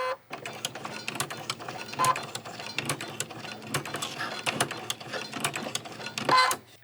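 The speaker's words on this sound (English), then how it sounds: "I will try to do a few stitches so that you can see how this works." A sewing machine stitches sheer ruffled fabric in rapid mechanical bursts, with short clicking pauses where the fabric is adjusted by hand, close and moderately loud.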